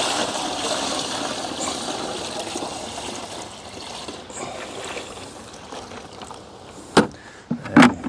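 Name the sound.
refilling a bucket with water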